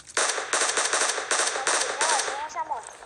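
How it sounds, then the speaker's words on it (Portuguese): Rapid bursts of automatic gunfire in the mobile battle royale game PUBG Mobile, loud and close, firing in quick repeated volleys for most of the moment before tapering off. "Tô levando tiro."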